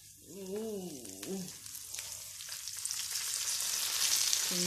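Pork sizzling and crackling in a hot pan, a steady bed of frying hiss with scattered sharp pops that grows louder toward the end, close up; a brief warbling tone rises and falls early on.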